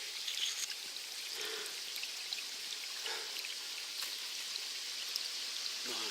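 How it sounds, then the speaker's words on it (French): Spring water spills out of its source along the Mourèze trek, a steady close trickle and splash with faint drips on top, continuous and unbroken, with no one talking. "Et la source débouche ici."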